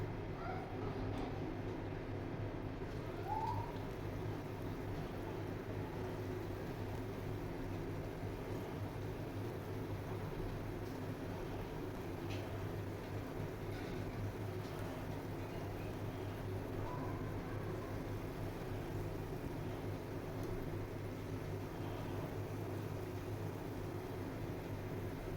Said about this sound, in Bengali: এখন আমি একে একে বড়াগুলো ভেজে নেব।